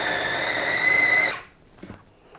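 A food processor blending chickpea batter whines loudly at a steady high pitch for over a second, then cuts off abruptly, leaving faint handling clatter in a quiet room.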